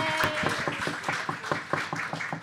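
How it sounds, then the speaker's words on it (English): An audience applauds at an early-morning welcome session of the Privacy Camp 2019 conference, a steady wash of many hands clapping at moderate loudness with dense, uneven claps throughout. "Please give yourselves a big round of applause for being here so early in the morning."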